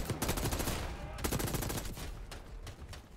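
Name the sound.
gunfire from a gun in the video game Call of Duty Black Ops 6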